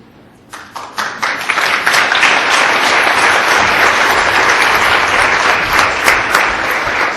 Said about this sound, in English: I did hear the applauding